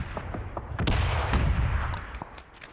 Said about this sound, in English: I-26 gonna escape that mortar there